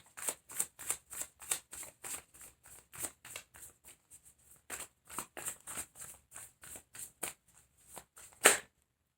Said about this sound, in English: I'm going to get one more card for that position.